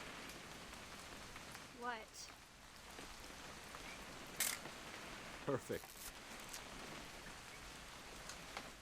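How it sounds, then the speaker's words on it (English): Steady rain falls on surfaces in the video game What Remains of Edith Finch, a soft continuous patter under brief spoken remarks and a few sharp clicks. "It's gonna rain the whole weekend, isn't it?"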